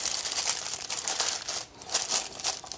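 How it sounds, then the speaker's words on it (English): Parchment paper crinkles steadily inside a baking pan while being pressed flat, a close, continuous papery rustle with a few brief lulls and no talking. "my parchment paper doesn't sit down in it. It just sticks right up at the top"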